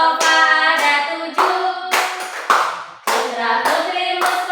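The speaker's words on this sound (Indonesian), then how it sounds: "Sambil tepuk tangan ya" Children clapping in time with a sung children's song in an Indonesian classroom, loud sharp claps at a steady beat, blended with voices singing together.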